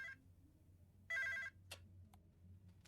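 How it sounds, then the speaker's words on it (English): A telephone in the video game BackBone rings in two short electronic trilling bursts, with a couple of soft clicks afterward against a quiet, low hum. "Oh, the phone rings."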